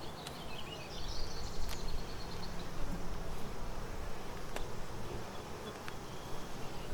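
Honeybees swarm around an open hive during a hive inspection, making a dense, continuous buzzing hum that stays loud and close, with a few sharp clicks and faint bird calls over it.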